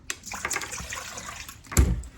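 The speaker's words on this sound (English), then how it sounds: "So here, Everly, 2 cups of water." Water pouring from a handled cup into a mixing bowl in a home kitchen, a short splashing pour with a louder burst near the end.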